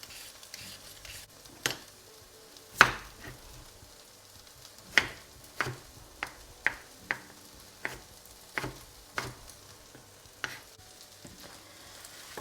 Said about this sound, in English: I'm just going to peel and chop them into 1-inch pieces.